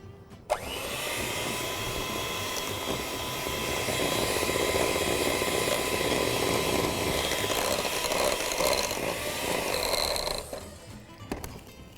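An electric mixer beats fruit cake batter, making a steady, loud, close whirring drone with a rough grinding edge that runs for most of the time and then cuts off near the end.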